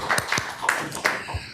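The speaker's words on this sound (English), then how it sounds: "Applause." A small audience claps after a medical talk on proximal junctional kyphosis, with a handful of separate, sparse claps close by over a quiet room.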